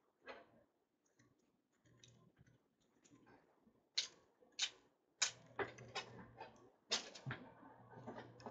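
Quick keystrokes on a computer keyboard while entering sports card details, scattered light clicks in short irregular bursts, quiet and close, with a low hum underneath.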